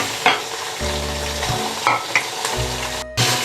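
Mutton fries with onions in a hot pan, making a loud, close, crackling sizzle with several sharp scraping stirs and a brief pause near the end. No one talks.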